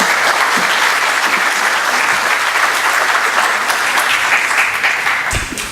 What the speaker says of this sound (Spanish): Démosle fuertes aplausos,